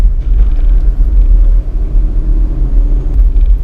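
A Suzuki S-Presso city car's engine labours up a ramp in low gear after shifting down to first. A deep, steady rumble heard from inside the cabin stays loud and continuous throughout.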